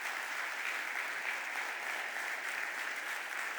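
Steady applause from the audience fills a city council chamber in Philadelphia during the mayor's budget address, a soft, even wash of many hands heard at a distance.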